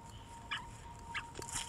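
A chicken in the video game Ultimate Fox Simulator 2 gives a few brief, faint clucks spread over a low, steady background hum.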